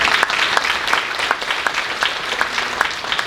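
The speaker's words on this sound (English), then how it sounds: "please give them a big round of applause" Applause from an audience at a city-hosted community iftar gathering, a steady crowd clapping with dense, continuous patter that holds evenly throughout.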